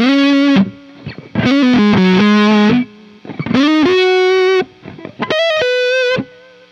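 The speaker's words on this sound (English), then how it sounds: "Okay, let's hear how this sounds." Distorted electric guitar through delay in AmpliTube 5 plays four sustained chords and notes, each ringing with repeats and a wide effected shimmer, separated by short gaps.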